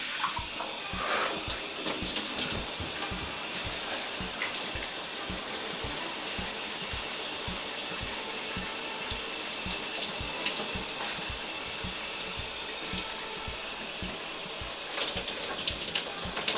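Hot water runs from a tap in a steady, continuous stream that stays loud and close for the whole stretch, with no one speaking over it.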